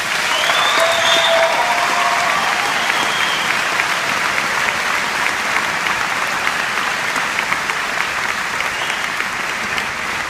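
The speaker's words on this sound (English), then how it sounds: "Let's give our veterans a round of applause." Loud, sustained applause from a large crowd honoring veterans at a 2015 graduation ceremony, dense even clapping throughout with a few whistles near the start and no talking.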